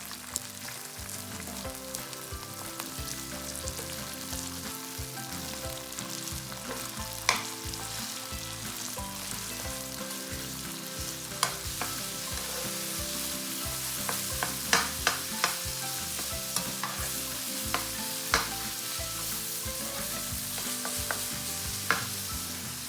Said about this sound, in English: When the oil turns red, we can go back to high heat and start to fry the pork mince.